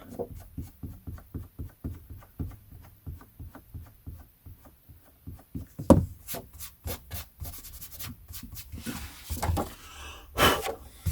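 An eraser rubbing out a pencil price mark on the page of a vintage Penguin paperback, heard as quick rhythmic back-and-forth scrubbing strokes up close. Occasional louder page handling and rustles break in toward the end.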